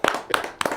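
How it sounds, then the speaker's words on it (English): Three quick, close hand claps, evenly spaced, make up a sparse, brief round of applause indoors in a small group setting. "Should we give a brief round of applause?"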